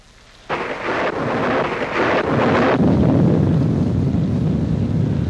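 Thunderstorm effect from a 1938 film: a sudden heavy rumble of thunder breaks in and rolls on, followed by a steady loud roar of rain and wind.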